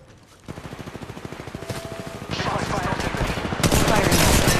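Rapid automatic gunfire in the mobile battle-royale game Apex Legends Mobile, sustained bursts of closely spaced shots growing louder and denser over a few seconds, with no talk over it.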